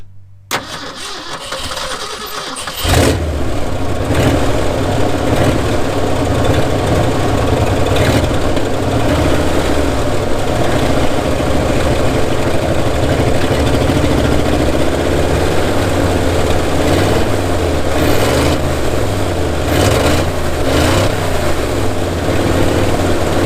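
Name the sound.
old truck engine idling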